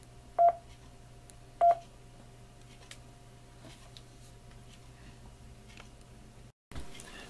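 Short electronic beeps from a Yaesu FTM-400D APRS mobile radio: two clear, crisp tones about a second apart, followed by quiet background hum with no talking.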